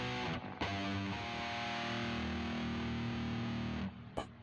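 Electric guitar plugged straight into a four-track recorder with no amplifier and distortion at maximum, a loud, buzzing, fuzzy sustained chord wash that holds steady for several seconds before cutting off, with a brief burst at the end.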